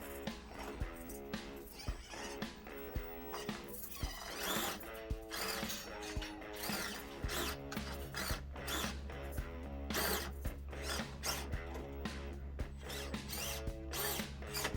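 A stock Axial SCX24 Jeep Gladiator RC crawler runs indoors, its small electric motor whining close and steady, pitch rising and falling as the throttle changes, with the tiny drivetrain clattering along.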